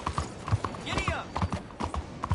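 A horse galloping in the Red Dead Redemption 2 video game, rhythmic clip-clop hoofbeats close by with a brief whinny partway through, while a voice calls out over them.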